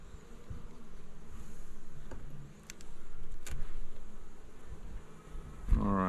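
Honeybees droning in an opened hive during an inspection, a steady close buzz that swells and fades, with a few handling knocks and a brief clatter near the end.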